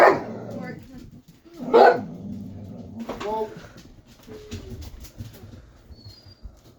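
Loud close barks from a pet dog burst out at the start and again moments later, followed by quieter yips and whimpers, while someone talks nearby in a home kitchen.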